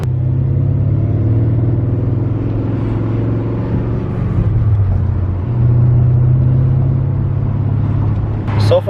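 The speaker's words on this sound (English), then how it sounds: "let's see how this car drives" A supercharged BMW E39 M5 with a manual gearbox and freshly replaced rod bearings drones steadily from inside the car while driving, its low engine hum shifting pitch gently through a gear change, loud and continuous throughout.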